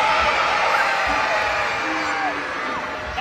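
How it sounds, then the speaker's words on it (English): A children's party audience cheers and yells in a loud, sustained crowd roar with whoops rising over it, continuous throughout. "I need all of you to clap and cheer and stomp your feet"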